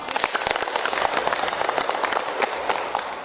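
Dense, steady applause from an audience at a village family gender-awareness simulation event in Sendangagung, many hands clapping at once without pause.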